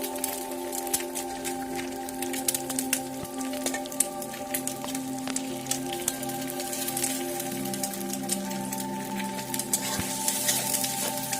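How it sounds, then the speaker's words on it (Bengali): Four eggs scrambling and frying in a pan, a steady soft sizzle with light crackle and occasional stirring scrapes running continuously throughout, fairly quiet and alone. "তো এখানে আমি এখন ডিমগুলোকে ভালো করে ঝুরি ভাজা করে নেব"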